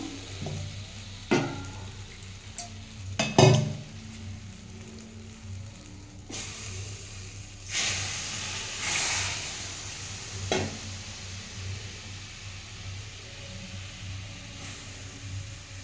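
Fish curry simmering in a pan after tomatoes and a little water go in, giving a steady low sizzle broken by occasional sharper pops and spatters, close up with no talking.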